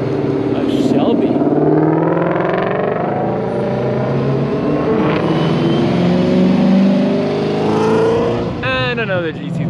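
A Shelby Mustang sports car at a track day roars nearby, its engine revving and sweeping up and down in pitch, with voices talking over the loud, continuous exhaust note.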